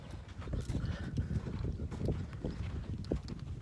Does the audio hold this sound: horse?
yes